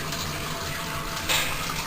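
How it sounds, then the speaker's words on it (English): Beer wort flowing from a tap through a cooler and pump during home brewing of a strong ale, a steady close rushing and splashing of liquid that swells slightly louder near the end. "we open the tap and the wort flows down into this pump"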